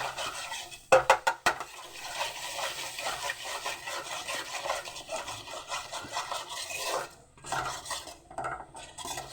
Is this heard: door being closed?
no